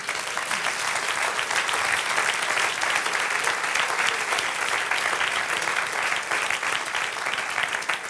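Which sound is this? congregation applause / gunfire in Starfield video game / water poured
congregation applause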